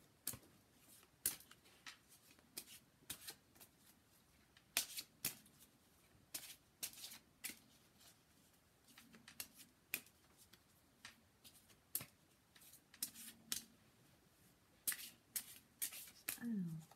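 Oracle cards are shuffled and drawn with repeated crisp riffles, slaps and flicks in uneven bursts, close and fairly quiet, while someone talks between and over them.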